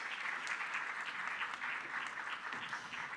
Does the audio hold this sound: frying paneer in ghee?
no